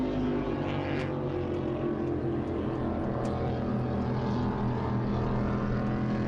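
P1 SuperStock powerboats race at the Madison Regatta, their engines a steady loud roaring drone that holds without a break throughout.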